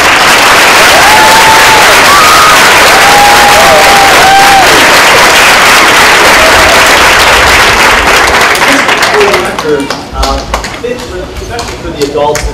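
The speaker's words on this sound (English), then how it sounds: "Can we give them a round of applause?" A school crowd applauds board members at a 50th-anniversary celebration for Hallowell, with loud, sustained clapping filling the hall. Voices and cheers ride along with it before the clapping thins into scattered claps near the end.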